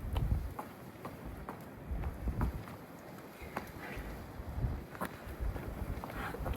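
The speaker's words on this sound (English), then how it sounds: "Don't ask me about the wind" Wind buffets the microphone outdoors in Cornwall in a steady low rumble with irregular gusty bursts, close and rough, with no other clear sound.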